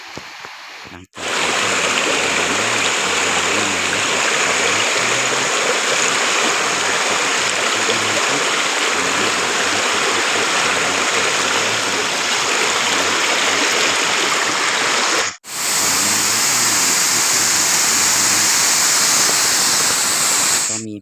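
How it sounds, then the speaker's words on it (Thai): The seventh tier of Tat Limanthip waterfall roars loudly and steadily at close range, a broad continuous rush of falling water interrupted by two brief cuts, with no talk over it. "ที่น้ำตกชั้นเจ็ดนะครับ น้ำตกตาบลิมานทิพย์สวยๆนะครับ"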